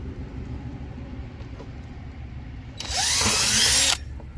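A power drill bores a hole through a plastic 5-gallon bucket, a single loud, close whirring burst lasting about a second against a quiet background.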